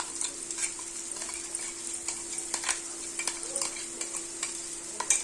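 A spice paste of cumin, coriander and chili powders soaked in a little water is stirred and fried in a pan, with steady soft sizzling under frequent scraping stir strokes, close up and without talking.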